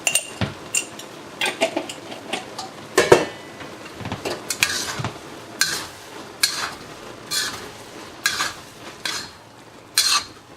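Noodles stirred in a pan with oyster sauce and salt, giving a string of close, irregular scraping and clinking utensil strokes against the pan with no talking.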